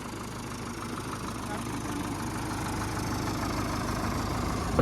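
A tractor engine runs at a steady, low idle rumble close by, out in a wheat field, growing slightly louder toward the end with faint talk beneath.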